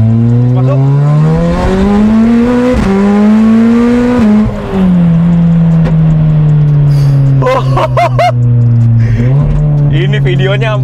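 A VW Scirocco R hatchback with AWD and a tuned engine of over 800 hp accelerating hard, its loud engine note rising through several gear changes close by, with brief shouting voices near the end.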